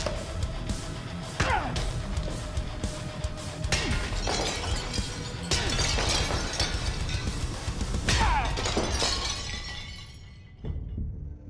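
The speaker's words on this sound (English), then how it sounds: "I will be taking them and smashing these pots" Forged blades smash clay pots during a strength test, producing a series of loud shattering crashes spread across the span, each followed by falling fragments, before the noise drops away near the end.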